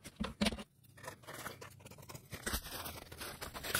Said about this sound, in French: Même avec les ciseaux, c'est pas simple.